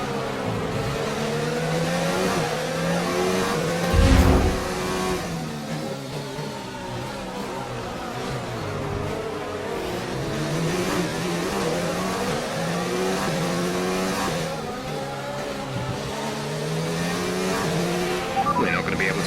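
Race car engine in F1 2019 on the final lap at Monaco, a continuous loud whine rising and falling through gear changes, with tires squealing briefly and voices talking over it.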